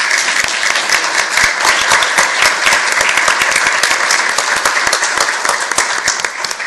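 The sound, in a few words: audience applause at a school board meeting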